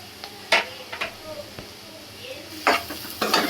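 Vegetables and paneer sizzle in oil in a pan while being stirred, with a low steady frying hiss broken by several sharp scraping strokes of the spoon.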